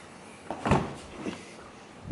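A 2014-2016 Scion tC car door is opened up close, a couple of soft latch clunks and thuds rising over quiet background, with no talking.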